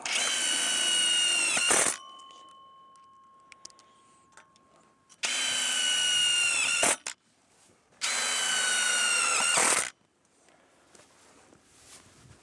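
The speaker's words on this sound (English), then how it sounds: "We'll next want to install 4 3/4-inch self-tapping metal screws through the pre-drilled holes in the central hub to prevent it from moving." A power drill drives 3/4-inch self-tapping metal screws through pre-drilled holes into a stand's central hub, whining loudly in three separate bursts with quiet pauses between them.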